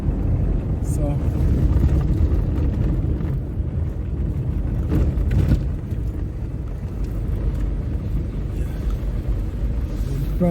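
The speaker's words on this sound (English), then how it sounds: "we have one of those big trucks carrying aggregate." A big aggregate-hauling truck on St. Thomas Highway, heard from a following vehicle as a heavy, steady low-frequency road rumble that stays loud throughout, with people talking over it.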